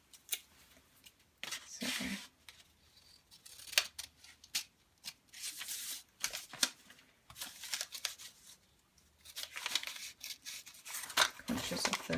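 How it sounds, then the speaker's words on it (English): Scissors cut into paper flaps for kirigami bows: repeated soft snips and paper rustles in irregular bursts, close and fairly quiet, with a brief word of speech. "I'm going to cut into these flaps right up to the tip there."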